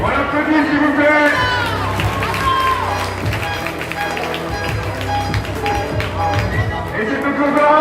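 Crowd at an under-13 boys' youth basketball final clapping and cheering in a gym, dense steady applause mixed with shouts, whistles and voices, loud and continuous throughout.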